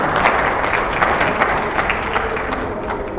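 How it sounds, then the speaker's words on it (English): Audience applause from a crowd at a live event, steady dense clapping sustained throughout with a few sharper individual claps standing out near the listener. "Can we give them a round of applause?"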